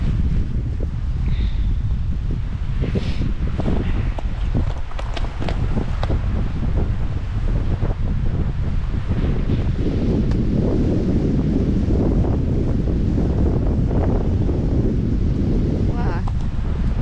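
Wind and small waves on Keweenaw Bay in February wash water up onto an icy shore, a steady, loud, rushing roar with buffeting wind on the microphone throughout.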